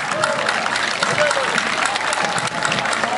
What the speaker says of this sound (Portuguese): Nossos aplausos para o Clube Atlético Vai Vendir